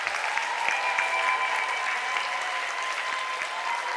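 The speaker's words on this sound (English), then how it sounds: "So I would want you graduates to rise and give your parents a big round of applause" Graduates at a university spring graduation ceremony give a sustained round of applause, a dense, even wash of clapping from a large hall audience with no letup.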